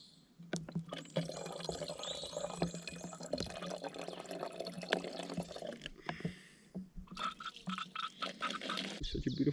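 Water is collected from a source just off the Appalachian Trail near Tray Mountain, with close splashing and pouring in sustained bursts, a brief lull midway, then more trickling and splashing.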